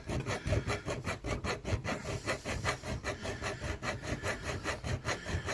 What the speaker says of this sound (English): Just slowly taking a flat file here and going in on an angle around that post.